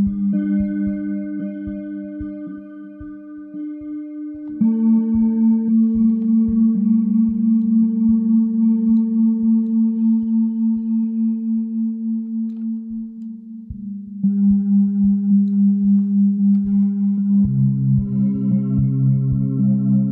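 A Logic Pro Sculpture modelled string patch driven by sidechained drums sustains droning, pitched tones that pulse rhythmically with the drum hits, shifting pitch a few times across twenty seconds, with echoing, chorused texture and no voices.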